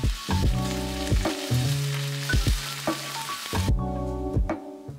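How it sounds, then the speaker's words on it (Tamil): Onion, beans and carrot stir-frying on high flame for street-style veg fried rice, a steady loud sizzle broken by repeated metallic scrapes and clanks of the spatula against the pan. "இப்போ இதை வந்து ஒரு 1 நிமிஷம் நல்லா ஹை ஃப்ளேமில் வச்சு வதக்க போகிறோம்."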